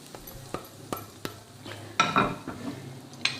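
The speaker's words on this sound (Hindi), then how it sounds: "बघार इसमें ऐड करते हैं" Hot tempering (baghar) hits a pot of Lahori chikar cholay chickpeas, giving a burst of close sizzling and frying after a few sharp clinks of utensils against the pan.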